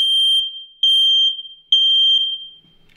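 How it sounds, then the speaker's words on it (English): Smoke detector alarm sounding three loud, piercing electronic beeps in a steady repeating rhythm, each tone held for about half a second with short gaps between, close and alone with no talking. "That's right, it's a smoke detector."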